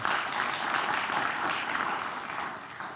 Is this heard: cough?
no